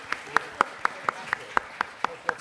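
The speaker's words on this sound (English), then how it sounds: "Quick round of applause for Carrie Fisher" Applause at a cast interview event for Star Wars: The Force Awakens, heard as about ten evenly spaced, crisp claps, sparse and rhythmic rather than a full crowd.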